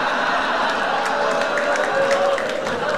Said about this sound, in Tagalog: Nagayawan yung crowd doon